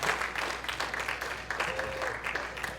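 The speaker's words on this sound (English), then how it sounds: "Big applause." Audience applause at a furry convention game show, Furry Feud at Vancoufur 2016: steady clapping from a crowd, fairly dense and continuous throughout, with faint background chatter mixed in.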